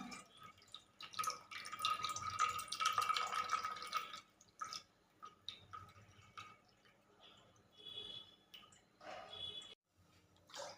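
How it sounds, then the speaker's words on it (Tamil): Milk squeezed by hand out of soaked maida for halwa, dripping and trickling in close, wet bursts that are busiest early on, then thinner dribbles with pauses; no talking. "இப்போ அதோட பாலை மட்டும் தனியாக புழிஞ்சு எடுத்துக்கலாம்"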